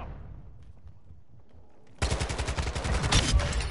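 A quiet lull in a shooter video game gives way to a sudden loud, rapid burst of automatic gunfire that keeps rattling steadily until the end, with no voices over it.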